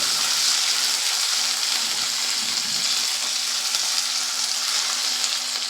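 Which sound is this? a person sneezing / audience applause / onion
onion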